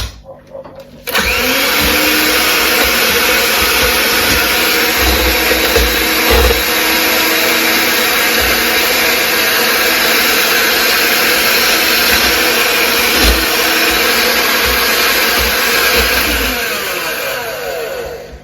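An electric mixer or blender whizzing a pantry mixture until fluffy, starting abruptly and running as a loud, steady motor whine for about seventeen seconds with slight pitch wobbles, no one talking over it.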